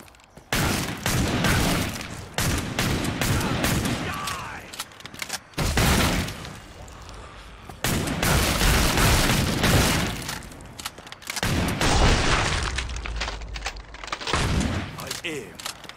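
Gunfire in Killing Floor 2, played as a Gunslinger on the Black Forest map, comes as repeated loud shot bursts and volleys with short pauses between, crashing close over a steady background of game noise.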